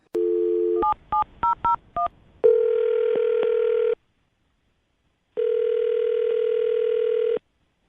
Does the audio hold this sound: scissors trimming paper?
no